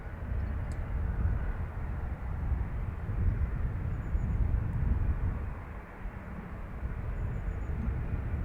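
A Falcon business jet at Dublin Airport, a steady broad roar of jet noise heard from a moderate distance, holding level before dipping briefly and returning, with no speech.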